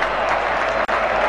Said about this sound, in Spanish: El aplauso para el jugador de más categoría que tiene la Primera B Nacional.